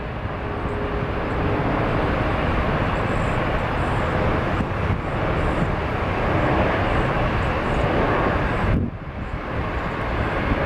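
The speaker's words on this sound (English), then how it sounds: "There's our Special Livery United, an A320." A United Airbus A321 airliner in special livery passes during plane spotting in Seattle, a steady, loud broadband jet roar that holds for about ten seconds before briefly dipping and returning.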